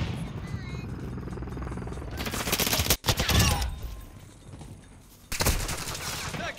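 Gunfire in Call of Duty Modern Warfare II, with bursts of rapid shots and heavy blasts that come and go, a sudden cut near the middle, and a voice talking between the volleys.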